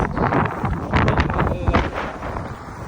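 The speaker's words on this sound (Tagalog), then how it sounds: "Grabe lakas ng hangin." Strong wind buffets the microphone in loud, gusty rumbles that rise and fall throughout.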